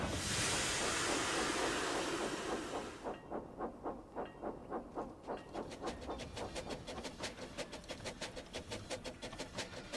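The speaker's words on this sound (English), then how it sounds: "The signal went green, and Toby puffed along." Toby the tank engine puffs along pulling a train, a loud hiss giving way to a steady, rhythmic chuff that repeats close by and quickens slightly, with no talking.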